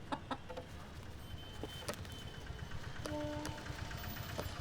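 A chicken clucks in short bursts close by, with a brief higher squawk, over a low engine hum in the background.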